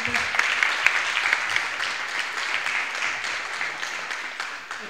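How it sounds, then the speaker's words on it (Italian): Steady, moderately loud audience applause at a closing ceremony of a memorial sports tournament, honoring the referee; dense clapping continues throughout without speech. "un applauso a Francesco Lupo"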